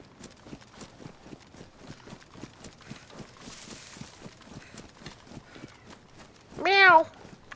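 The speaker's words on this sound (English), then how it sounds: "That was my cat back there meowing." A cat gives a short, clear meow near the end, standing out over steady rhythmic footsteps from a DayZ game, with speech present.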